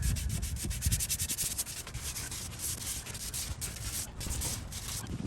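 Hand sanding of Bondo filler on a cracked plastic Chevrolet Volt bumper with 180-grit sandpaper, heard as close, continuous rhythmic scratchy rubbing strokes with no talking.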